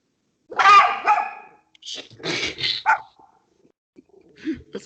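A dog barks close by in a few sharp, separate bursts with brief pauses between them, loud against an otherwise quiet background.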